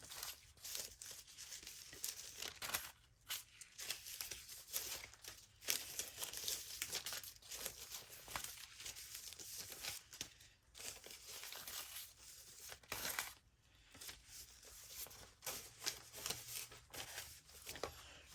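Sheets of deli paper are handled and rustled while pages are being chosen for a junk journal, with soft crinkling and brief crackles coming in uneven bursts, close and quiet, with no voices.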